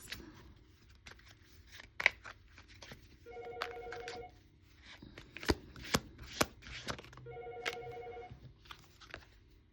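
Tarot cards being shuffled by hand, with bursts of riffling and sharp card snaps against a quiet background, alongside two stretches of a steady electronic ringing tone.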